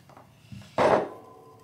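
A short burst of Bell's Hopslam Ale gushing into a glass, a bright splashing pour that swells for a moment and then settles into quiet fizzing.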